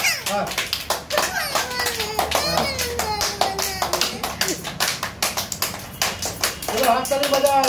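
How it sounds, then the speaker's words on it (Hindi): A group claps hands in rhythm during a Ceragem healthy exercise session in Tata Nagar, with rapid sharp claps continuing steadily throughout while an instructor calls out over them. "अभी हाथ ताली बजाओ"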